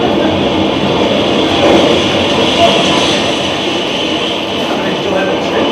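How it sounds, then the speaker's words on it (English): A train pulls into a station with a loud, steady rumble and rushing noise that fills the whole stretch, swelling slightly in the middle before easing off. "Here's your train."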